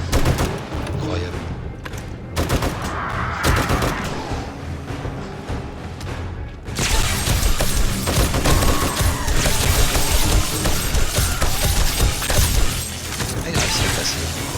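Heavy gunfire from an M60 machine gun during a horde night in 7 Days to Die, with dense, continuous bursts that grow louder and busier halfway through. Explosive crashes are mixed in, and a voice speaks faintly beneath the shooting.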